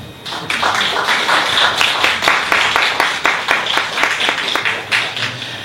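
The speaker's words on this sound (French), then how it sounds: "je vous demande de l'applaudir s'il vous plaît" An audience applauds an artist at a radio station's tenth-anniversary event, steady dense clapping with distinct sharp individual claps throughout, close and loud, no talking.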